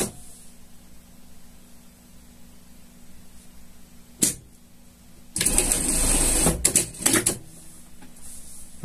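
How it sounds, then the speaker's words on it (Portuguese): A sewing machine runs a seam on a shark costume in a short, loud burst of rapid stitching, cut by a few brief stops, after a quiet stretch with a single click. "Passamos uma costura aqui"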